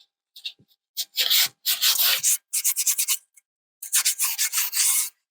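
A cloth rubs a generous coat of cellulose sealer onto a turned wooden bowl with brass and resin inlay, in close, repeated bursts of brisk scrubbing separated by short pauses.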